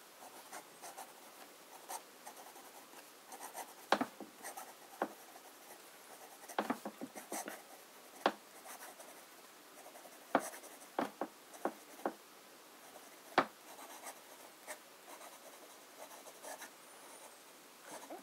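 A fountain pen with a fine nib, inked with Noodler's Apache Sunset, scratches across paper in faint, close, irregular strokes with short pauses and occasional sharper ticks, with no talking.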